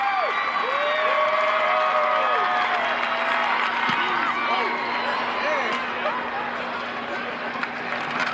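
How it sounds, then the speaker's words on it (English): Football stadium crowd cheering as Sarah Fuller kicks, a broad sustained roar with whistles and shouts and a steady hum throughout, under voices. "You can hear the crowd."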